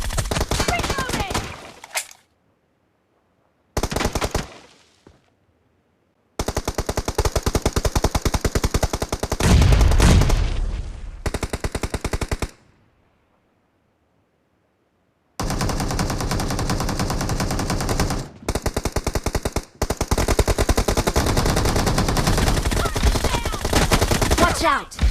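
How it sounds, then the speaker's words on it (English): Loud, rapid automatic gunfire in a video game comes in long sustained bursts broken by sudden silent gaps, close and dense throughout. "Watch out! Shots!"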